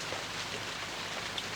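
Heavy rain pours in a steady, even hiss of dense drops hitting surfaces, filling the moment without a break and with nobody speaking.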